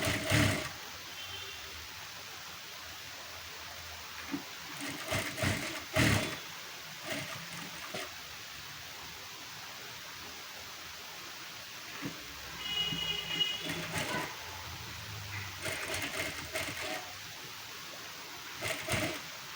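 A sewing machine stitches a blouse piece: a close, steady mechanical whir runs throughout, broken by brief louder bursts and clicks as stitching speeds up and pauses, with no talking over it.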